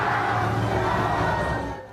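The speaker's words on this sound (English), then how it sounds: "Her supporters cheer as projections for the first round of snap parliamentary elections are released" Supporters of France's far-right National Rally erupt in sustained crowd cheering as first-round snap parliamentary election projections are released, a dense, loud roar of many voices that holds steady before easing slightly at the end.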